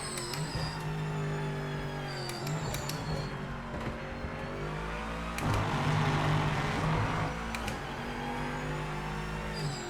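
GT4 race car engine in the Project Motor Racing sim, a steady loud drone rising and falling with gear changes through corners, continuous for the whole stretch with no talk.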